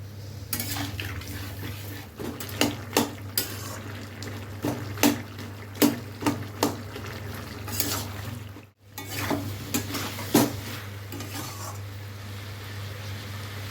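A curry is stirred in a pan after water and sugar go in, with repeated metal scrapes and clinks of a spoon against the pot over a low steady hum and a faint simmer, plus a brief pause midway.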